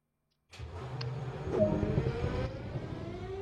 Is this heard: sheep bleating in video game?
no